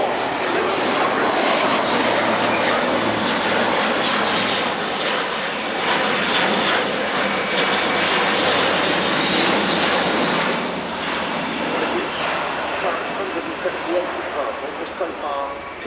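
Luftwaffe Airbus A400M Atlas military transport aircraft in a flying display at RIAT, its turboprop engines giving a loud, sustained roar that swells and slowly fades as it passes, with a commentator talking over it.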